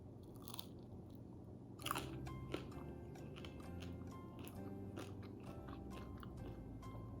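Close, quiet crunching bites into crispy smashed potato followed by soft, moist chewing, with a few sharper crisp snaps scattered through.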